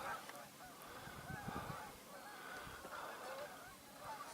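Geese honk repeatedly while flying overhead on an open day near river crags, their calls moderately distant and layered into a steady chattering flock.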